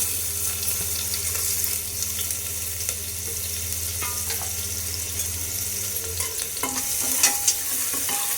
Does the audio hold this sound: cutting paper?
no